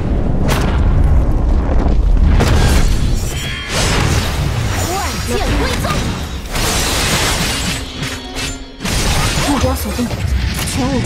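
Bomb blasts and crashing impacts from the Honkai Impact 3 video game burst in repeated loud bursts amid dense combat effects, with short voiced game lines over the top.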